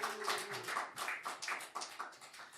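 Audience applause welcoming a missionary onto the stage at a church mission event: dense, steady clapping from a large crowd, close and continuous throughout, with no talking over it.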